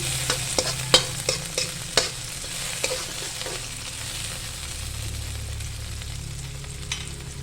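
Food, including tomato, sizzles and fries in a pan as it cooks to golden brown. Sharp utensil scrapes and stirring knocks come in a quick run early on, then a steady, soft frying hiss carries on alone.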